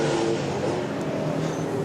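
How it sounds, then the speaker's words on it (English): Air-cooled flat-six Porsche race car at the ADAC 24h Classic on the Nürburgring, a steady engine drone holding close and loud for the whole brief stretch without speech. "nothing like that iconic flat six sound of a Porsche air-cooled engine"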